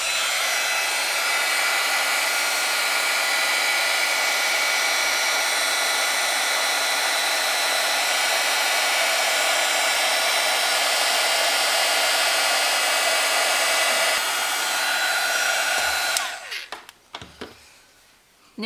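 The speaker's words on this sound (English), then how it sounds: "I will use the heat tool again" A heat tool blows steadily and loudly over poured acrylic paint on canvas, a constant close roar lasting most of the time before cutting off, followed by a few small handling knocks.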